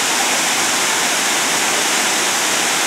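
Large waterfall at Deep Creek roaring steadily, a dense, loud broadband rush of falling water that fills the whole clip with no pauses and no voices.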